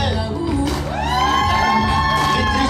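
Crowd cheering and whooping at a quinceañera celebration as a dance couple is announced, loud and sustained, with shouts and a rising tonal voice or music cutting through the noise.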